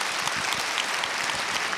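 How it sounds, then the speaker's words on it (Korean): A church congregation at a Sunday worship service claps together, a dense steady burst of applause filling the room briefly, with no talking over it. "박수하겠습니다."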